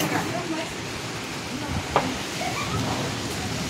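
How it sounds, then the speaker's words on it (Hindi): Heavy rain falling in Dehradun after a long heatwave makes a steady, dense broadband hiss across the whole clip, with faint voices and brief chirps over it. "फाइनली देहरादून में बारिश हो चुकी है इतनी तेज गर्मी के बाद"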